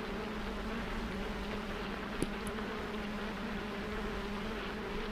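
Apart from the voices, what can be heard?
fly buzzing noises in the video game Limbo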